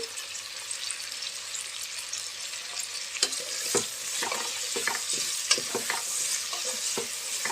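Vegetables, green chillies and mint frying in a pan for vegetable biryani, a continuous close sizzle broken by scraping and clinking as a spoon stirs, with no one speaking.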